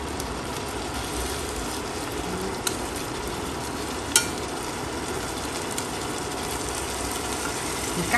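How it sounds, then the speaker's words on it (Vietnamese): Tiger prawns stir-fried in a pan for a coconut-milk noodle soup, giving a steady broadband sizzle with faint scraping stirs and a couple of sharp clicks, close and continuous with no talking. "Bây giờ mình xào lên, hồi là nó lên màu đỏ rất là đẹp."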